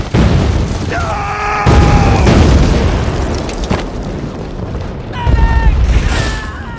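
Bombing explosions in a Band of Brothers war episode come as loud, rumbling booms and bursts with shouting voices over them, continuing in heavy waves across the scene.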